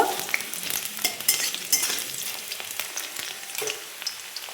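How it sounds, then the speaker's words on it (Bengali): Potato pieces sizzle in hot oil while being stirred, with a continuous crackling hiss broken by frequent scraping stirs and small pops, close and moderately loud. "আলুটা একটু তেলে ভেজে নেব।"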